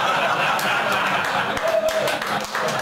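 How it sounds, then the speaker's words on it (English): Conference audience clapping after a live demo, a steady burst of applause with a few louder individual claps and faint chuckles or voices mixed in. "Applause."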